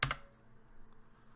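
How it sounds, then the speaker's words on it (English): A single brief burst of clicks from a computer keyboard, one or two quick keystrokes close up, then faint room quiet with no talk. "I type the equal sign"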